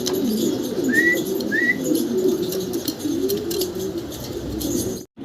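A pair of Holi Copper fancy pigeons coo softly close by, with two short rising calls near the start over a low murmuring of other birds and light rustling, ending in a brief dropout.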